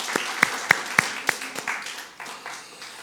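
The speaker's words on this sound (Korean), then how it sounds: "우리 선하신 우리 예수님께 우리 감사의 박수 한번 올려드리겠습니다" A church congregation at a Sunday service claps together, opening with several sharp, distinct claps that give way to softer, scattered clapping fading out within a few seconds.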